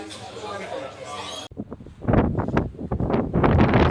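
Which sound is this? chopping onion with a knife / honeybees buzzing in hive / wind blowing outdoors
wind blowing outdoors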